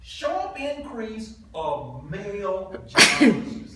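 Someone talks steadily, then a single sharp sneeze bursts out near the end, louder than the speech around it.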